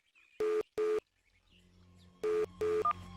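Four short electronic beeps in two pairs, like tones of a phone being dialed, over a faint low hum.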